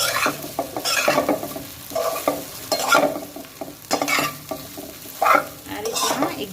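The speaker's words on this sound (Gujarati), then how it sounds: "ગેસને મેં ધીમો કરી દીધો છે અને ધીમેથી આને હલકા હાથે આપણે મિક્સ કરી લેવાનું" Gentle stirring of patarvel (colocasia leaf) mixture in a pan over low gas, with soft sizzling and repeated scraping strokes in bursts, close up and without talk.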